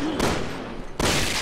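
Two dense bursts of rapid gunfire from the video game Resident Evil 6, one short volley at the start and a longer one near the end, loud and close, with a quieter pause between.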